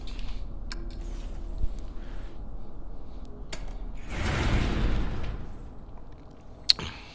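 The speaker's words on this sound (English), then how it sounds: "we're gonna take this elevator up" A video game elevator carrying the player upward: a low mechanical rumble with faint creaks swells for a second or two, then fades, and a single sharp clank lands near the end.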